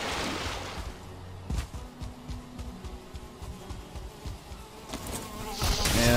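Insects buzz steadily through the swamp edge in Valheim, a dense droning hum that fills the scene with a few louder passes, close by and with no voices.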